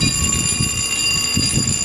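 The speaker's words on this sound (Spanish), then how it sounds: "La alarma que estamos escuchando nos avisa que este puente" A drawbridge warning alarm in Fort Lauderdale sounds before the bridge lifts, a steady electronic tone ringing continuously, with a low rumble of traffic or machinery beneath it.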